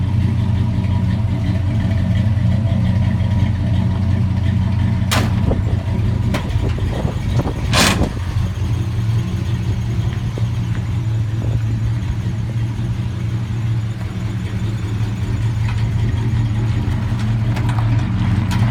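A 1957 Chevrolet 3100 pickup truck idles steadily nearby for the whole stretch, a low constant engine rumble with a couple of brief sharp knocks or clicks partway through and no talking.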